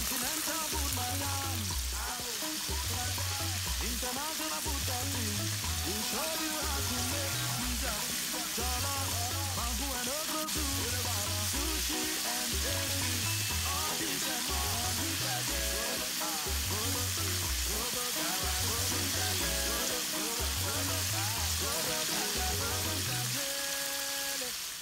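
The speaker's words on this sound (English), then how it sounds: "fry it until it is nice and golden brown." Red snapper frying in hot oil with onions for Ghanaian fish gravy, a steady bubbling sizzle throughout, with rhythmic background music playing over it.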